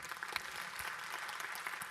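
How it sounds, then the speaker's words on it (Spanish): Applause for a church's technical team, a brief burst of dense, even clapping from a crowd, fairly distant and filling the whole moment without voices. "démosle un aplauso al equipo técnico"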